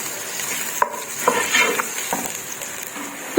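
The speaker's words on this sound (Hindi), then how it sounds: "और प्याज को हम थोड़ा सा नरम कर लेंगे ताकि इसका कलर थोड़ा सा चेंज हो जाए।" Onions softening in a hot pan for a lobia gosht curry, with scattered scrapes and light clinks of a spoon stirring against the metal over a soft, steady background hiss; close and fairly quiet, no talking.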